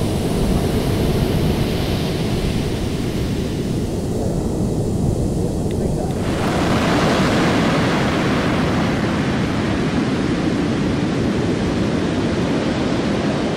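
Ocean surf rolling onto a beach near Yogyakarta, a dense, continuous roar of breaking waves heard close, with some wind buffeting the microphone.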